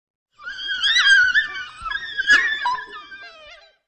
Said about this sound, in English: they communicate by making a noise that sounds a lot like a sneeze. Here's what they sound like.